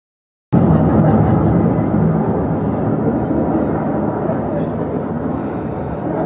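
Airplane passing at the Toulon air show, a loud roaring jet rumble that kicks in abruptly and holds strong and steady, close and overpowering, with voices faintly underneath.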